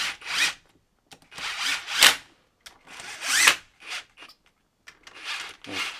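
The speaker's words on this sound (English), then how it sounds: "Use the screw gun to tighten these cam caps down." A screw gun runs in the cam caps on an R7 turbo engine build, close up, in short bursts of whirring separated by brief pauses, with no talk.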